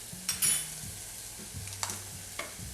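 Jarred garlic sizzling with onions in a pan, a soft steady sizzle under a few metal scrapes and clinks of a utensil against the pan, close and fairly quiet, no voices.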